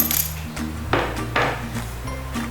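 Ingredients for a spicy Thai beef salad are pounded in a mortar to a coarse paste, giving a few dull knocks and gritty scrapes close up over a low background hum.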